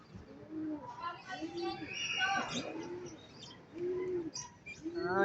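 A flock of pigeons coos in a repeating low rhythmic pattern outdoors in Masbate, with chirps and brief higher calls mixed in and someone talking over part of it.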